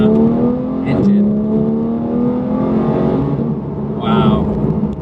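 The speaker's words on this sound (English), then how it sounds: "you just end up wanting to downshift just to hear the noise of that engine" Porsche 991.2 GT3 engine revving on downshifts, loud rising and falling engine tones with a sharp blip and a second rev burst, heard from inside the car alongside speech.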